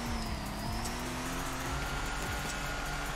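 A 437-horsepower Nissan S15 drift car shifts into third gear on the Road Atlanta course in Torque Drift, its engine revving hard and steady with a rising tone, loud and continuous with a faint tire squeal.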